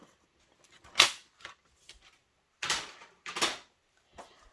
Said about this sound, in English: So I just need to trim that down when I cut it.